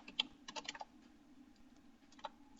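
Keys tap on a laptop keyboard in a few quiet, sparse clicks as numbers go into a spreadsheet. A faint steady hum runs underneath and no one speaks.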